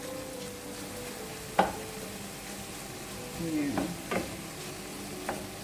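Garlic added to a hot pan for a Saint Lucian pumpkin lentil stew, with a low steady frying hiss and several sharp stirring clanks, plus a brief voice.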